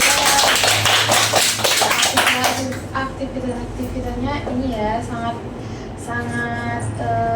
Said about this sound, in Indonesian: Tepuk tangan dong buat Mbak Angel.